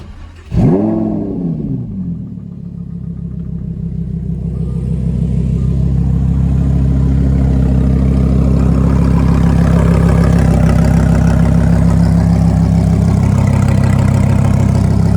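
A 2015 Lamborghini Huracan LP610-4 engine cranks and fires up with a sharp roar, then settles into a loud, steady, deep idle rumble that continues throughout.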